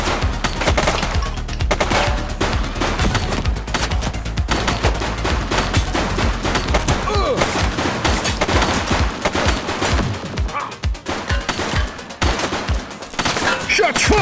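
Dense, sustained gunfire from The Precinct video game, with rapid overlapping bursts and shots running loud and continuous throughout, mixed with game music and occasional faint voices.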